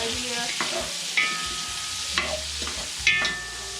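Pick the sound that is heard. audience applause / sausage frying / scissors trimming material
sausage frying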